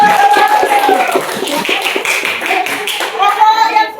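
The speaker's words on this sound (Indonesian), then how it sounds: "Ya, tepuk tangan anak-anak untuk" Children in a Biology class X classroom break into brief, lively clapping, a cluster of sharp overlapping claps close by, mixed with a teacher's voice and children's chatter.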